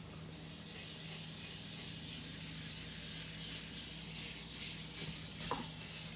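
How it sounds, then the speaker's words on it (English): An old green scrubber with Ajax cleaner scours a cast iron sink in steady, continuous close rubbing strokes, with a brief louder scrape near the end and no talking. "I'm going to be using just this old green scrubber."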